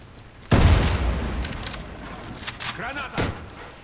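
A grenade blast from the shooter game Warface, a sudden loud boom that rolls off into rumbling debris, followed by scattered smaller impacts and a shouted voice.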